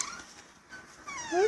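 A shy dog whimpers faintly, a soft thin whine that rises into a brief, higher-pitched whimper at the end, close by and otherwise quiet.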